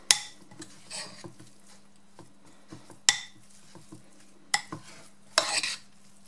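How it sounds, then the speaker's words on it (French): Carrots tossed with vinegar in a bowl, a utensil scraping and clinking in irregular strokes with a few sharper knocks, close and fairly quiet, no voices. "Et je vais bien les mélanger."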